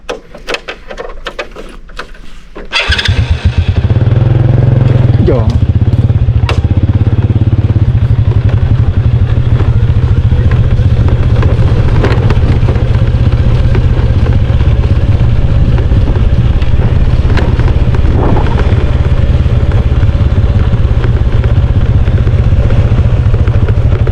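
A motorcycle rides along a rural road into a Lao village. After a few seconds of light clatter, the engine roars up loudly and holds a steady, close drone with bursts of wind rush.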